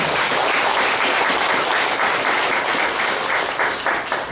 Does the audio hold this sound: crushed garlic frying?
no